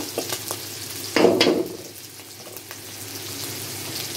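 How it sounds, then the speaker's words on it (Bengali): Onions sizzle in hot oil with prawns for a sweet pumpkin prawn curry, a steady close-up frying hiss with a louder burst of stirring about a second in, then a softer sizzle. "এখন এটা চিংড়ি মাছটার পেঁয়াজটা একটু ভাজা ভাজা হোক। হ্যাঁ, পেঁয়াজটা ভাজা ভাজা হচ্ছে।"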